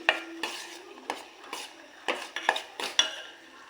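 A spoon scrapes sheera out of a pan into a small bowl, a quiet run of separate metallic scoops and clinks spaced irregularly, about eight distinct strikes close by with no talking.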